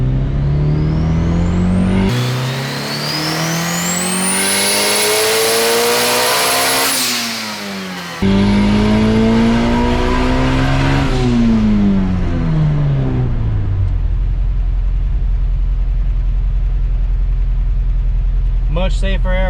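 A turbocharged Honda Prelude with an H22 engine on a dyno, running on pump gas, revs loudly and climbs to a high wail, then drops and revs again before settling into a steady drone, with someone talking over it.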